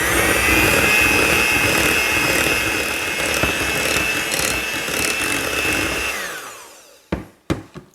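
A blender whirs steadily and loudly while mixing a pumpkin pie fat bomb mixture, then spins down and stops, followed by a few sharp knocks.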